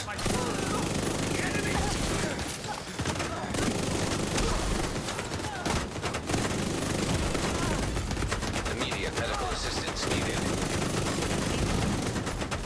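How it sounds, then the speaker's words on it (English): Rapid automatic turret fire in a shooter video game, a loud continuous barrage of bursts and booms that runs almost throughout, with brief gaps, under overlapping talk. "I'll set up my turret."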